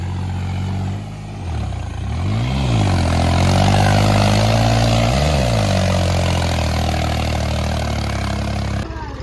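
A tractor stuck in mud, its belly dragging under full weight, drones loudly and continuously with a deep engine note that surges and dips twice, with voices talking over it.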